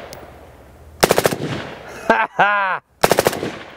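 A suppressed 7.62 rifle fitted with a compact Rugged Razor silencer fires two quick strings of loud, close shots, separated by a brief whooping exclamation and a short mechanical pause.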